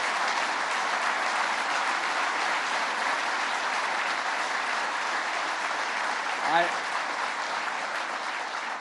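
A firefighters conference crowd gives the president a sustained, even roar of applause that stays loud throughout, with a brief voice surfacing near the end.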